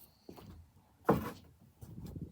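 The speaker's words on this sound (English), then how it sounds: "That's the door opening." A quiet door opening: a soft click, then a brief creaking swing and a muffled thump in an otherwise hushed room.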